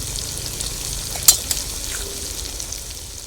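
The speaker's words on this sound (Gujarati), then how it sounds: "હળદર નાખીશું." Onions fry in a pan with a steady close sizzle, broken by a couple of short clinks and stirring scrapes as turmeric goes in.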